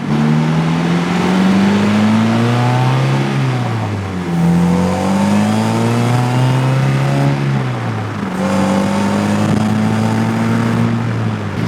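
A DF Goblin kit car accelerates hard on a tollway. The engine climbs through several gears, each rising whine dropping at a shift, loud and close from the cabin with wind noise and no talk.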